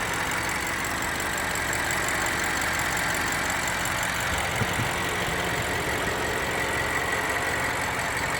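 A BMW X6 M's 4.4-liter twin-turbo V8 idles steadily, a continuous close engine drone with a broad hiss on top and no talking.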